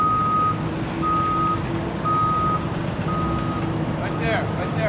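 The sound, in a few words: truck reversing beeps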